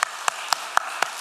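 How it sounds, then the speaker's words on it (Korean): At a Korean Sunday morning church service, the congregation gives a short run of five synchronized claps, evenly timed and brisk. "자, 여러분 박수 받으세요."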